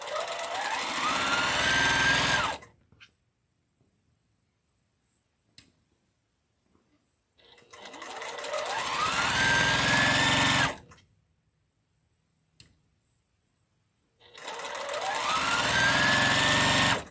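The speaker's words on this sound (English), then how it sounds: "I sew straighter when I sew faster." A sewing machine pieces fabric for a quilt block, running in three fast, loud, steady bursts of a few seconds each, separated by near-silent pauses.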